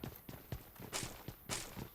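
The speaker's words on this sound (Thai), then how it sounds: "เสียงเท้ามัน" Footsteps of a running character in the mobile shooter PUBG Mobile, a quick steady series of soft thuds and scuffs, close and moderately quiet, with no voices.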